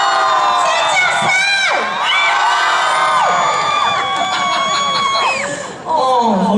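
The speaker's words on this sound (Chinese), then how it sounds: "尖叫声！" A big outdoor crowd at a temple Mazu festival concert screams and cheers loudly and continuously, with shrill whoops and high voices rising and falling close by.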